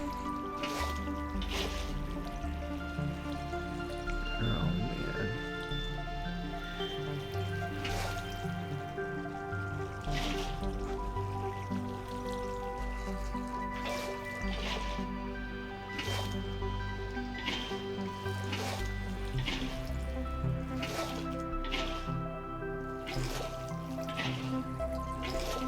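Water in the survival video game From the Rubble, flowing and trickling steadily for the whole stretch, with small drips and splashes over a constant liquid wash under a layer of game music.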